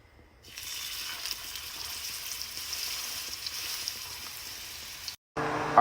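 Seasoned steak fries in hot avocado oil with a steady, close sizzle that holds for several seconds before a brief cut and a louder burst of crackling.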